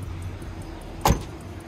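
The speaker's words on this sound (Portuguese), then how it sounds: "Portinha fechando, olha o funcionamento." A small door on a Ford LTD Landau car closes with a single short, close thunk about two-thirds of the way through, set against a quiet idling hum.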